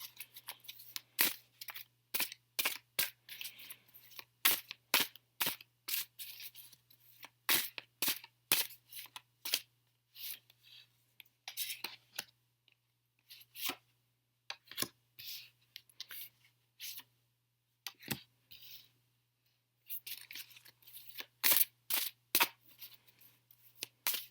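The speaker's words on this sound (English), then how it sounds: "be receptive to the messages that come out here while I'm shuffling" Rapid bursts of tarot card shuffling, crisp riffles and slaps repeating over and over with brief pauses, close up, no talking.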